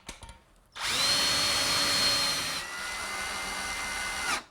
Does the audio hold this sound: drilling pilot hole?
yes